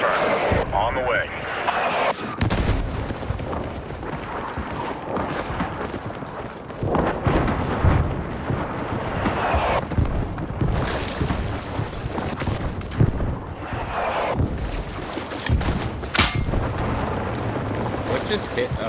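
Artillery fire in a video game lands as repeated booming explosions and rumbling impacts, some near and heavy, others duller, spread through the stretch over a dense battle din.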